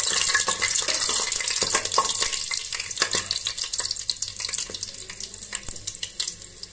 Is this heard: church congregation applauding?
no